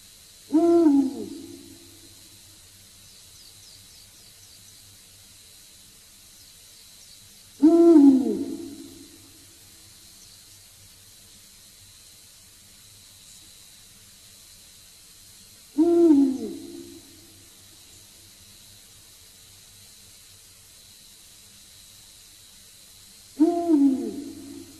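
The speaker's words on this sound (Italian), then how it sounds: "Gufo reale." Eagle owl hooting, shown at a raptor photo presentation during a threshing festival: four deep, resonant hoots spaced about eight seconds apart, each clear and fairly close, with near silence between them.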